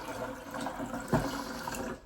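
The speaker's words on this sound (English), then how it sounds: "this is the bowl we're going to be using while we're descaling the machine, where all the water is going to get dumped out into" Water from a coffee machine being descaled pours into a bowl in a brief splashing gush, with a sharp burst near the middle over a steady running-water wash.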